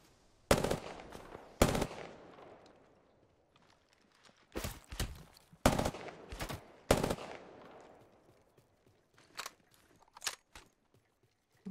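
Shotgun blasts from the video game Apex Legends ring out in sharp, loud, separate bursts, some in quick pairs, with quiet gaps between them and fainter pops near the end.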